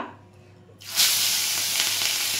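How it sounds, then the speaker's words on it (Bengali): Near silence broken by a sudden loud burst of sizzling as hilsa fish hits hot oil, then a continuous crackling fry. "এই যে ইলিশ মাছ ভাজবো"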